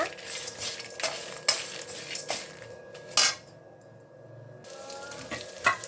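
Dried chillies and peanuts fry in a pan, with a soft sizzle under sharp metal clinks and scrapes of a spoon against the pan, several distinct knocks spaced across the stretch.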